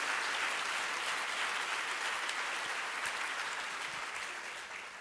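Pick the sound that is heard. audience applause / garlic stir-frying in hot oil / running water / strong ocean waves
audience applause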